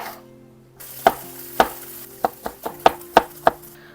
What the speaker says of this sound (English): begin to chop your veggies